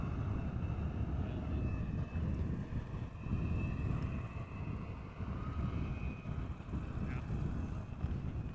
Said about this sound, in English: An Embraer 175 coming from Aberdeen